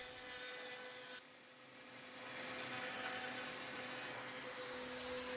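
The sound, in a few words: router cutting a groove in a wooden shelf plank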